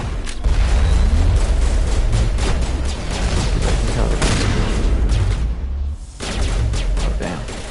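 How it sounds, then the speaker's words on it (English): Loud, sustained gunfire and booming blasts from the shotgun combat in Mass Effect 1, a dense continuous barrage with low rumbling impacts and a brief dip near the end. "You are getting hit with the meanest shotgun blast"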